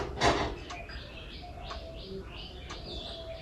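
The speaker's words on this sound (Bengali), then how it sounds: "কিন্তু বাইরের থেকে পাখির আওয়াজ আসছে হেব্বি সুন্দর।" Birds chirp and call outside a room where someone sits studying, with short bright tweets repeating at a moderate distance over a steady low background hum.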